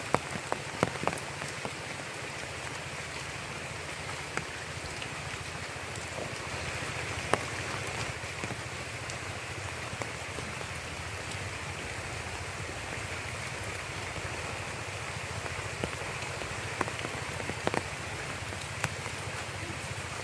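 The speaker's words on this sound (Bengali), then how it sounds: "বৃষ্টিতে" Steady rain pours down under a large tree as the sky darkens, a dense even hiss of drops on surfaces with a few sharper nearby drips, continuous and alone for the whole stretch.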